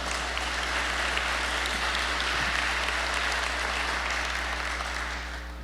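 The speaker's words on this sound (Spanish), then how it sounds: "¿Qué tal si usted le da ese aplauso más fuerte al Señor?" Sustained applause from a large church congregation, dense and steady clapping that fills the space for several seconds before easing slightly at the end.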